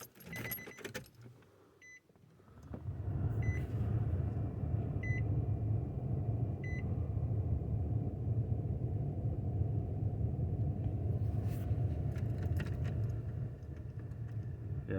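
A Nissan Xterra's key is turned to ignition-on with the engine left off: a jangle of keys, a few short electronic chimes, then a steady low electrical hum and whir fills the cabin.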